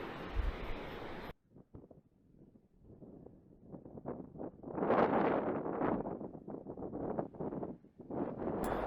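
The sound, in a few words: strong wind on Tiritiri Matangi island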